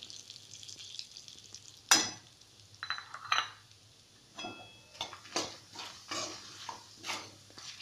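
Red chili powder masala fries in hot oil for an egg masala gravy, giving a soft, steady sizzle broken by a sharp metallic knock and a run of spoon scrapes against the pan, all quiet and close.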